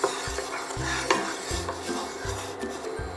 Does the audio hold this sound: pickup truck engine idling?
no